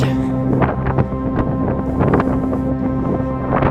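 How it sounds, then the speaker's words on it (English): Strong wind buffets the microphone in loud, rumbling gusts, with a steady low engine-like hum underneath. "seems a lot more windy now."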